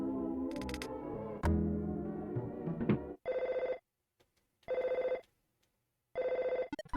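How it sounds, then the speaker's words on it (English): An old telephone rings in the SNES game Earthbound, three evenly spaced electronic ring bursts standing clear and loud after a stretch of game music. "Okay, my phone must have been ringing."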